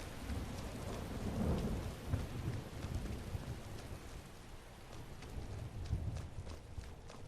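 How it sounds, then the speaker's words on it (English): Video game weather in Skyrim: steady medium rain hissing across the scene with low rumbling thunder rolling underneath, fairly faint and continuous without any talk. "the medium rain is already letting up"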